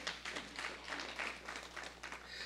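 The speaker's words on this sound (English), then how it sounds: "Yes, you can applaud." Audience at a church talk breaks into applause, a sustained round of clapping with distinct individual claps over a low steady hum.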